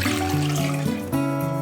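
Water pours steadily into a cooking pot, a continuous splashing fill with a shifting pitch as the level rises, close and alone.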